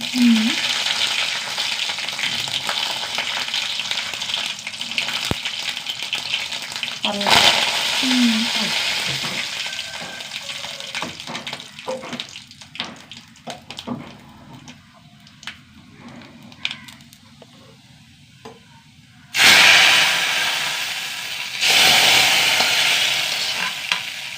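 Curry frying in a pan is stirred, a continuous sizzle broken by scraping strokes, with a louder burst of frying near the end.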